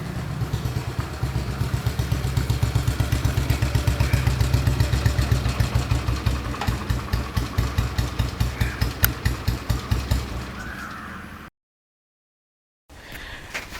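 A 1968 Royal Enfield G2 Bullet engine runs close by with a loud, even single-cylinder thump. The beat slows and fades as it winds down, then cuts out briefly before a faint rumble returns at the end.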